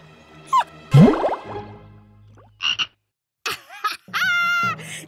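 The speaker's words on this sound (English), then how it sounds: "See you later, frog!" Cartoon frog croaks several times in short, separate bursts, some deep and bouncy, others higher and warbling, each loud and close with brief silences between them.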